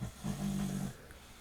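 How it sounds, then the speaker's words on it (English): A dog lets out a single loud, rumbling snore lasting under a second, close by, followed by quiet breathing. "my dog is so loud"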